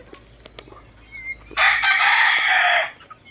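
A Boston cockerel in a backyard crows once, a loud, close, raspy call lasting over a second, with faint ambient noise before and after.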